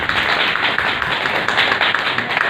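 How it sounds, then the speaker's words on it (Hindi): A crowd at a colony gathering claps loudly for its president and secretary, a dense, continuous round of applause close by with no voices over it. "तालियां इस चीज़ के लिए भी हैं"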